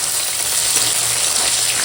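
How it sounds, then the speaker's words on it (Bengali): Okra frying in oil in a home kitchen, a dense, even sizzle like steady hiss, loud and close with no talk over it. "আর ভেন্ডিটা ভাজছি"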